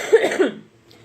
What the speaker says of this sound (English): Cough is still going on.